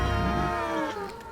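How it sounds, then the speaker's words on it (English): A single loud, close cat meow in STALKER 2, drawn out and wavering before trailing off, with no talk over it. "Alright, it's a cat."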